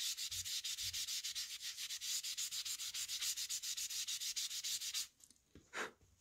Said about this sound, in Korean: 화장솜으로 펴줘 볼게요